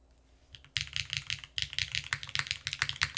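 Close-up typing on a custom Wraith 60 keyboard: after a few quiet taps, a quick run of sharp, slightly resonant keystrokes in an even rhythm, loud and isolated without speech.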